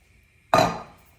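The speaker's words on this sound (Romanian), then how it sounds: "adăugăm apă." Water is poured into a pot of Hungarian goulash over softened vegetables, a sudden close splash and gush that fades out over about half a second.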